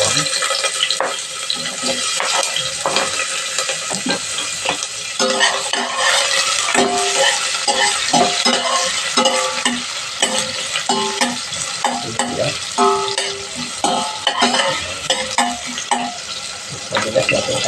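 Onion and garlic sauté in a hot pan with cooking oil, a continuous loud sizzle broken by scraping stirs and clinks throughout, with no voices.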